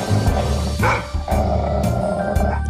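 A guard dog barks and growls in a short burst of yips and bow-wows over a dense, busy background, with no speech over it.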